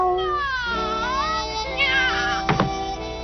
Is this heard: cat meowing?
yes